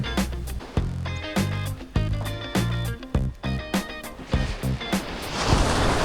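Ocean waves break and wash onto an empty beach used for skimboarding, a steady loud roar of surf with surging crashes and rushing foam throughout, no voices.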